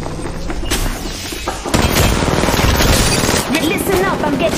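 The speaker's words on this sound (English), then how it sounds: "Listen up, I'm getting shot at." Apex Legends Mobile firefight, loud close bursts of rapid automatic gunfire with heavy impacts and booms, continuous and dense, with faint game voice lines mixed in.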